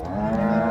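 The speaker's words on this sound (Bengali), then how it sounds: "বিশাল একটা গাভী দর্শক দেখেন, এবং হাতির মতো গাভী।" A large dairy cow moos at a cattle market, one loud, close, sustained low call filling the whole short moment with no talk over it.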